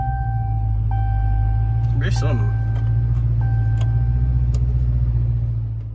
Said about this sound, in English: Start the car, see if it.